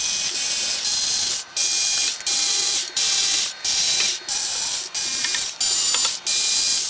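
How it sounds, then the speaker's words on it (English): Back-cover screws are taken out of a Nakamichi amplifier with a tool that gives loud, close bursts of hissing, ratcheting noise, about eight in a row, each broken off by a short pause. "look how many screws there are to take these out"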